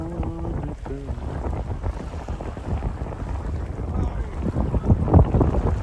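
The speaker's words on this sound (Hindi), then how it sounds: "एंड यहाँ पे वेव्स भी देख लो बड़ी तगड़ी आ रही हैं, क्योंकि हवाएं तेज़ चल रही हैं" Strong wind buffeting the microphone beside waves at Pangong Tso lake, a continuous loud rumbling roar with surging wash that builds toward the end, and a voice briefly audible at the start.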